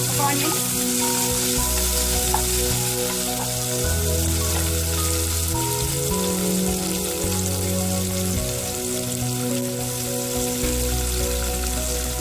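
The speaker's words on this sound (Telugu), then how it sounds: "గోల్డెన్ కలర్ వచ్చేదాకా మనం ఫ్రై చేసుకుంటారు." Onion frying in a pan toward golden brown gives a loud, even sizzle that runs without pause, with a soft melodic tune playing underneath and no speech.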